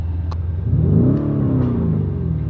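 A sports car engine revved in Corsa drive mode, one close, loud rising-and-falling rev with a deep rumbling tone, heard alone.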